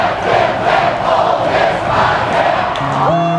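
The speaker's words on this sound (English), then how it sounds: "you'll hear like a crowd that's like, "Are you ready?" And then everybody replies, "Hell yeah, damn right."" A large Ole Miss tailgating crowd roars and chants the Hotty Toddy cheer in unison, loud and continuous with rhythmic swells, ending in a sustained tonal note.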